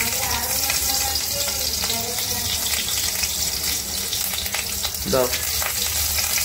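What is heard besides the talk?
green chillies added to a frying pan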